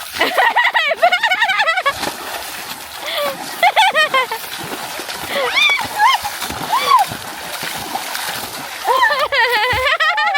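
Swimmer splashing in river water where three rivers meet, with bursts of splashing and sloshing under almost continuous excited voices of people talking and calling nearby.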